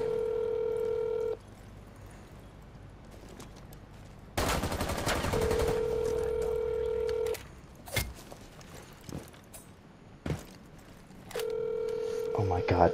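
A telephone rings in repeated steady tones, broken by loud bursts of game gunfire and short clicks, with the ring returning toward the end.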